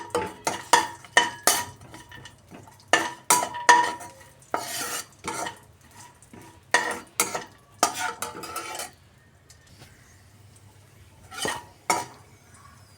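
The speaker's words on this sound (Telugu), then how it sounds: "మీడియం ఫ్లేమ్లో బాగా ఫ్రై చేసుకుందాము" Dry fruits fry in ghee in a pan over a medium flame while a spoon stirs them, giving repeated close scraping and clinking strokes over a faint steady sizzle, with one short pause near the end.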